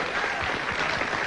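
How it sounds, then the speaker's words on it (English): A brief burst of dense studio audience applause at an improv comedy show, loud and steady throughout. "Give them a big round of applause."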